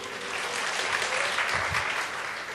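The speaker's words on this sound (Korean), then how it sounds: "뒤에는 뭐 알고 박수 치시는 거예요?" An audience at a church mothers' prayer meeting claps steadily, a dense, even wash of applause heard alone at moderate loudness throughout.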